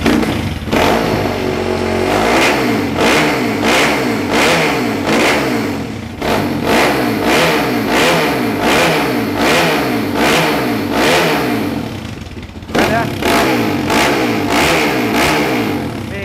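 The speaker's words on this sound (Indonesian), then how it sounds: "Kita cek dulu suara mesinnya" A Symotos 190 motorcycle engine revs hard and close, with rapid repeated throttle blips in a steady pulsing rhythm, loud and alone, with one brief dip near the end.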